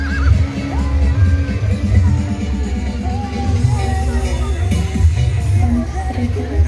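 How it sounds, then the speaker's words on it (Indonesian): A riding horse at a crowded outdoor community celebration neighs with a few whinnies rising over a steady hum of crowd noise and distant voices, fairly close and continuous throughout. "oh ini memang kuda tunggang"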